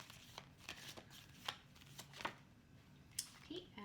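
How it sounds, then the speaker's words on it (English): Tarot cards are shuffled in a series of quick riffling bursts, close and soft, with brief pauses between them in an otherwise quiet room. "so that the camera can actually see me shuffling as well"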